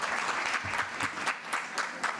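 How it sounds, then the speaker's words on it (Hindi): An audience at a poetry evening gives loud, sustained applause for young children, with dense clapping throughout and a few sharper individual claps standing out in the crowd. "एक बार जोरदार तालियां हमारे नन्हे मुन्ने बच्चों के लिए"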